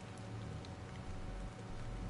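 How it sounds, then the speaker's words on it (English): Rain falling on a city street in the Stellar Blade video game, a steady soft hiss of drops with a low rumble beneath. "This must be Earth's rain."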